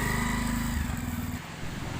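A motorbike engine drones steadily while riding, a close, loud low hum that eases off slightly near the end, with no talking.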